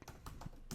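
Quick, close taps on a computer keyboard as a command is entered, a few keystrokes in under a second, quiet and alone.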